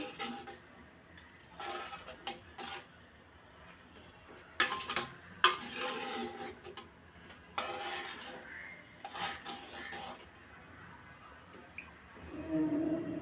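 A spoon scrapes and rubs through grated radish in a pan as salt and turmeric are mixed in, producing faint, irregular scraping strokes with a few louder knocks, close but soft.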